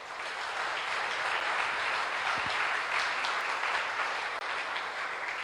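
A church congregation applauds, with dense, steady clapping from many hands that fills the room at an even level for several seconds.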